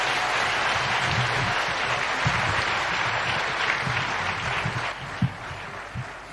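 Audience applause welcomes the President of Kenya at KICC, a steady wash of clapping from a large crowd that thins out toward the end.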